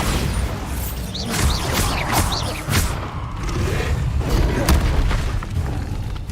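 Booming spell blasts from the Bombarda curse in the video game Hogwarts Legacy, heavy thuds and rumbling detonations layered with whooshes and clatter over continuous dense game noise, with a voice briefly present.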